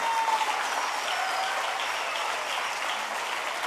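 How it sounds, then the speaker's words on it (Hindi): Sustained applause from a stage-event audience welcoming a woman onto the stage, a steady dense wash of clapping held at even loudness throughout. "तालियां नहीं रुकनी चाहिए"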